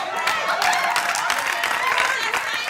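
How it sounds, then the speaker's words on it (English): Studio audience on a Steve Harvey talk show breaks into dense, steady clapping that fills the whole stretch at an even loudness, with no pauses. "Stop all that bull clapping."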